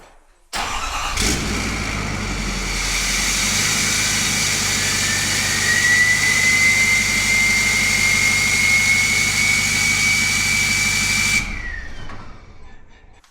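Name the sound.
truck engine cold start with 5-inch exhaust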